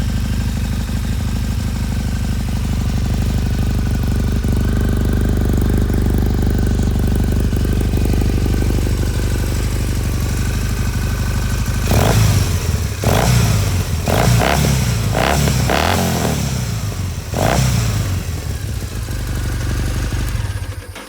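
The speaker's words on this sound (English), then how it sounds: "it's pretty quiet at idle, but it snarls up nice when you rev it up" A motorcycle idles steadily up close, then the throttle is blipped several times in quick succession, producing sharp, snarling revs over the idle.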